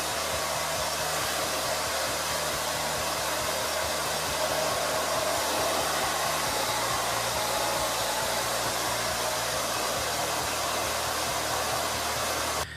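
A hair dryer blows steadily and loudly at close range while drying hair treated with volumizing product, a continuous airy roar with a slight shift in pitch partway through.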